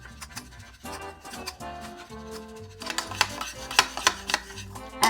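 Beads being stirred into homemade slime made from school glue and activator: soft squelching and clicking strokes, faint at first and then louder and more rhythmic, with music playing underneath.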